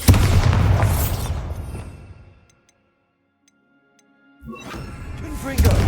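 A Bombarda blast in Hogwarts Legacy goes off as a loud, booming explosion with crumbling debris that fades to near silence, and then a second rumbling burst swells up, with a voice briefly heard.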